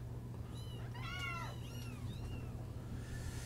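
Scared kittens being handled for sale let out several high, wavering meows in quick succession over a steady low hum, moderately close.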